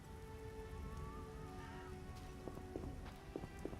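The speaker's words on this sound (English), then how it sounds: "Some rain." Steady rain falls in The Witcher video game, a continuous close patter of drops on surfaces with a few sharper splashes near the end and no talking.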